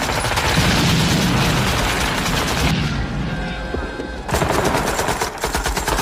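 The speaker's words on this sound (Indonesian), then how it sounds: "Joker terpaksa melepaskan peluru full metal jacketnya untuk membantu rekan-rekannya mencegah musuh memasuki markas" Dense machine-gun fire and gunshots from a battle scene in the film Full Metal Jacket, loud and continuous, briefly thinning before another heavy burst.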